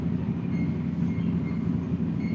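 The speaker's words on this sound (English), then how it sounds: "Passing a railway station." A train rumbles past a railway station in the Netherlands, a steady loud low roar of rolling wagons that holds throughout with no voices.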